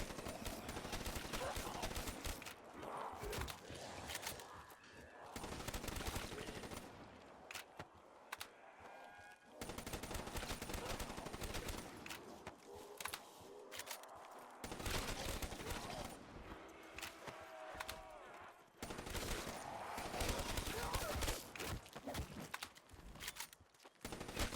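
Gunfire in the Call of Duty Shi No Numa map, dense bursts of automatic weapon fire and single shots layered with game effects, loud and near, with someone talking at times.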